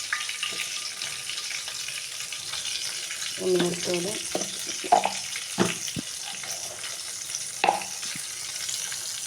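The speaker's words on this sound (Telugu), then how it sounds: "తాలింపు అయితే పెట్టుకుంటున్నాను" Cumin seeds sizzling in hot oil for a tempering, a steady crackling fry hiss running throughout with a few sharp stirring clinks and faint kitchen sounds.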